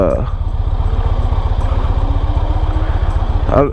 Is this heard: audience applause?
no